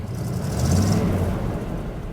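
A square-body pickup truck engine starts cold and idles steadily with a low rumble and a brief rise in revs partway through, close by.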